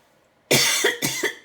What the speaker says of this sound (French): Pardon, excusez-moi pour la toux.